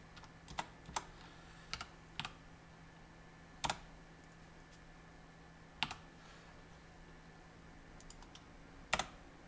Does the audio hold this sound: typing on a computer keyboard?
yes